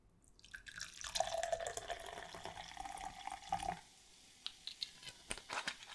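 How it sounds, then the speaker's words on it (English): White grape cordial pours into a glass for a little over three seconds, a close liquid stream that then stops, followed by a few soft clinks and small taps in a quiet room. "I'm just going to pour myself some of that white grape cordial"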